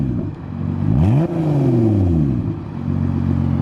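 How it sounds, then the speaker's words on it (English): Lotus Evora S with a straight-pipe exhaust in sport mode, revved hard close up: the engine climbs sharply, drops off, then sweeps up and down again in loud, rasping bursts, with no talk. "car sounds super beefy"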